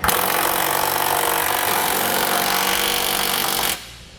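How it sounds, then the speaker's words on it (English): A power tool runs continuously at full, loud, close range as it tightens flange nuts on a Curt trailer hitch receiver being installed on a 2017 Subaru Outback, then cuts off abruptly near the end. "Now we'll get those snugged down."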